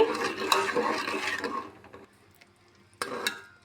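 A spoon stirs sugar syrup in a pan on the stove while rava laddu is being made, giving a soft continuous scraping and clinking that fades, then a couple of brief clinks return near the end.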